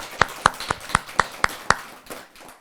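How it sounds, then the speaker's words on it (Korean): An audience at a Buddhist monk's talk gives seven sharp, evenly spaced claps in unison, then the sound fades into quiet room tone. "박수 한번 쳐줄까요?"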